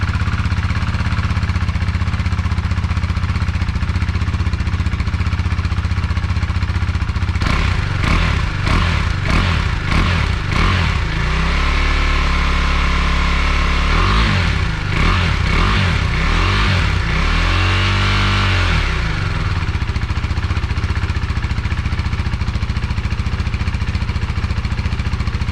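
A KTM 390 Duke single-cylinder motorcycle on its standard exhaust idles loudly, then gets blipped in a quick series of rising and falling revs, followed by a couple of longer sweeping revs before settling back.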